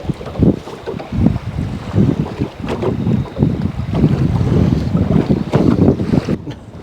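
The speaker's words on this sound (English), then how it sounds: "this is not the kind of wind you want to get sideways in" Strong wind buffets a fishing boat on open water at night, a loud, continuous gusting roar with microphone wind noise and rough, uneven surges throughout.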